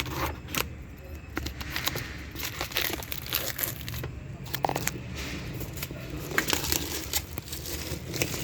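Packaging for a super night vision, full-screen rear view mirror dashcam is opened by hand, giving continuous close crinkling and crumpling with scattered sharper rustles and tearing over a low background hum.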